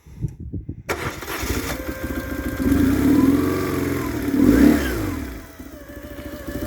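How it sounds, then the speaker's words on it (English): A BMW R1100 motorcycle engine cranks and catches, settling into a steady idle with a couple of gentle revs, close by and fairly loud. "So I'll start the engine now."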